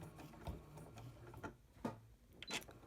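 A sewing machine stitching a quilt, heard faintly as a few slow, separate mechanical clunks and ticks rather than a continuous run.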